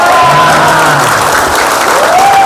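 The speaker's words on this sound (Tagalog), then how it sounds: "At kapag gusto nyong pumalakpak, okay lang pagpalakpak." An audience applauds loudly and continuously at a corporate talk, a dense wash of clapping from a nearby crowd throughout.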